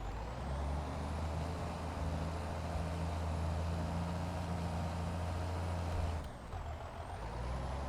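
A truck in Farming Simulator 22 with a loud, steady engine drone and a long air-brake hiss, followed by a sharp release and a dip in the sound near the end, with no talk.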